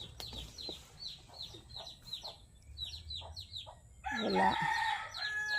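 Chicks cheep and hens cluck in a close chorus of short, repeated calls, with a louder burst of squawking near the end.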